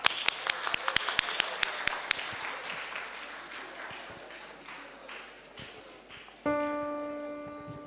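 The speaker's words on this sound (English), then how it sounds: "Give them a huge round of applause." A few sharp, separate claps open into soft, rolling audience applause for singers at the IASTAM oration and awards function. The clapping dies away moments before a sustained musical tone and singing begin.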